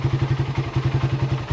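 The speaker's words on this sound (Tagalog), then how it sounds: "Kaya pinandar ko na lang yung motor" A motorcycle engine idles close by just after being started, a steady rhythmic chugging with regular thumping pulses and no voices over it.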